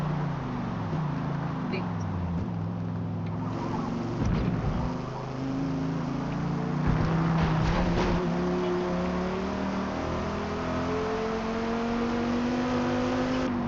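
A race car drives the Bathurst circuit in the rain in Forza Motorsport, engine whining and rising through gears in a steady near drone, with a voice talking over it.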